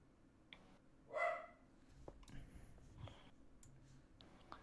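Dogs in a home bark in the distance, one sharp bark standing out and then fainter yips and clicks trailing after it. The sound is quiet and sits under the room's background noise.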